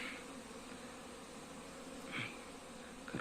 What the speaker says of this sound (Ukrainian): Гарна сіра бджола.